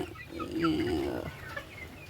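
Domestic chickens kept for sale give a short run of soft clucks, fairly faint and close, over a low farmyard background.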